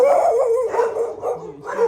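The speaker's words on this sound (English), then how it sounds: "You always see me get startled in the video whenever suddenly there's dog barking." A village dog on a Sunday morning barks and yips in quick bursts, close and fairly loud, with no talk over it.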